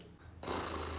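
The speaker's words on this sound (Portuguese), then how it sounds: "ela tá só roncando" A person asleep snores once, a low rumbling drawn breath that starts abruptly partway through and continues to the end, close and fairly quiet.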